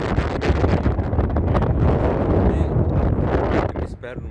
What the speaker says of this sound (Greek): Σε παίρνει ο αέρας βέβαια.